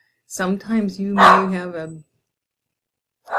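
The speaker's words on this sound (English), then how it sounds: "Sorry for the dog." An indoor dog barks several times in quick succession close by, with a person talking over the barking.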